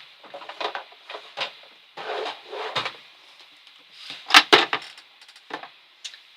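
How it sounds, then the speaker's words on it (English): Drawers opened and shut one after another while searching a room for stored photos, a run of close wooden knocks, slides and small rattles of contents, some louder clunks in the middle, no talk. "I'm just opening drawers."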